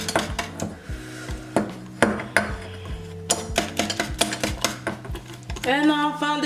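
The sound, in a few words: stirring a mixture in a bowl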